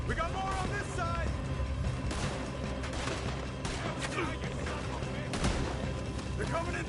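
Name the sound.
gunfire in the video game Red Dead Redemption 2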